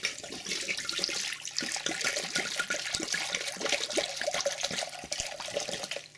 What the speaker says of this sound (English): pour your bottle of wine in there